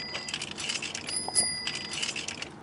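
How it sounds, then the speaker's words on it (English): A bicycle-bell phone ringtone from the film Birdemic rings out in quick repeated bright metallic dings, fairly close and clear over a faint background hiss, with no voices. "He calls Natalie, who has a bicycle bell as her ringtone."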